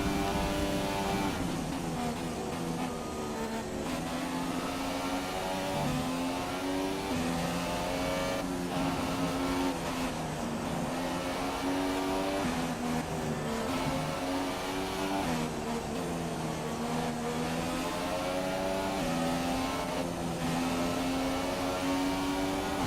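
A Formula 1 race car engine from the F1 2017 video game at Suzuka, Japan, drones loud and steady. Its high pitch sweeps up and down through repeated gear changes, with no voices over it.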